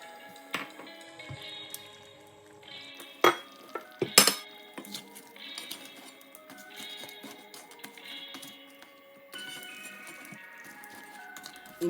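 Crab curry being stirred in a pot and then covered with a lid: soft squishy scraping, light metallic clinks and a couple of sharper knocks, close and fairly quiet.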